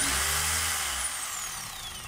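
DeWalt D25032 rotary hammer running briefly, a loud steady motor whine that winds down over about two seconds.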